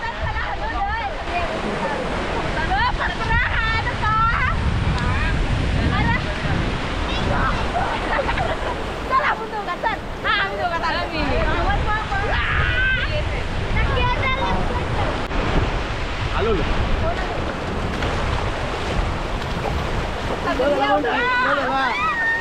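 Sea surf washes continuously onto a white sand beach in Konkan, a loud broad rushing wash with wind buffeting, under overlapping talk and shouting voices throughout.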